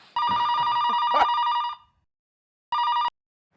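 A telephone bell rings loudly and close in a Hindi crime drama, one long warbling burst followed after a short silence by a brief second ring, with a faint clatter during the first.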